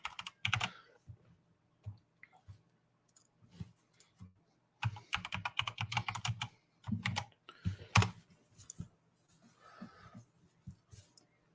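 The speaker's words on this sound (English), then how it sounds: "I can't even type." Fast bursts of typing on a computer keyboard during a subscriber giveaway livestream, close and crisp, with clattering runs of keystrokes separated by short pauses and no speech.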